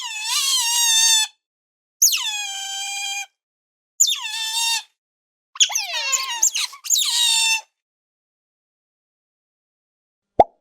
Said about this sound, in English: Otter.